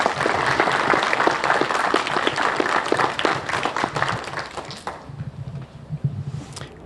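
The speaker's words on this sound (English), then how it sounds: "if you can give the state a round of applause" An audience claps steadily at a New Bedford community Coats for Kids event, broad dense applause that thins and fades toward the end with a few scattered claps.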